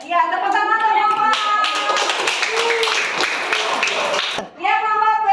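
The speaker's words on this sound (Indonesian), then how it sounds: "Ya, tepuk tangan untuk Bapak." A primary school class claps together for a teacher, a dense burst of hand claps lasting a few seconds between a voice speaking, with children's voices mixed in.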